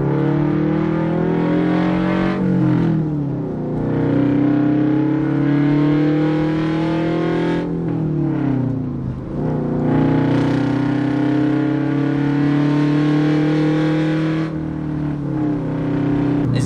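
A Toyota GR86 sports car is driven hard, its engine climbing through the revs in repeated pulls with brief dips at each gear shift, loud and close from inside the car, with no talk over it.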